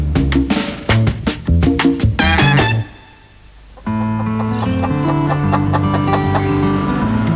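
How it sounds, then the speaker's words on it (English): Backyard chickens in a suburban yard clucking in a quick run of short, loud bursts, followed by steadier sustained calls, with no talking. "In suburban backyards, the chorus of clucking chooks is growing"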